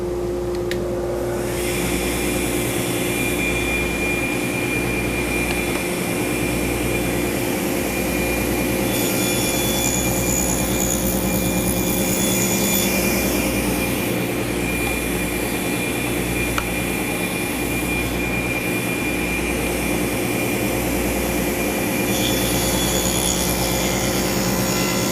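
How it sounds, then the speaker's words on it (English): A table or band saw fitted with a 1/8 inch blade runs steadily, cutting wood to make spline slots, with a loud continuous motor drone and shifting cutting noise as each piece is fed through, and no talking. "When I turn the saw on, I'm going to run each piece past there"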